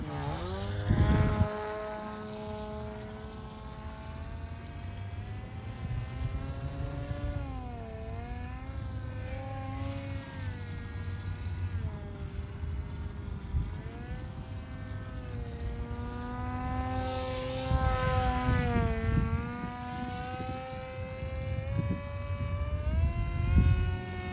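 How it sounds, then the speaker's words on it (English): An RC model airplane on its first flight drones steadily overhead, a thin buzzing motor whine that rises and falls in pitch as it passes, moderately distant with some louder swells near the end. "this plane is so smooth"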